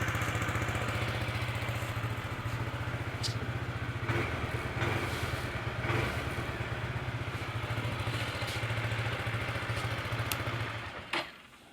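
A Wmoto RT3 motorcycle engine idles steadily with a low, even throb and a light mechanical clatter, close and alone, before cutting off near the end.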